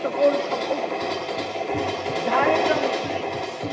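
A voice imitates a railway train, making rhythmic chugging, clattering sounds in a steady repeating beat at close range.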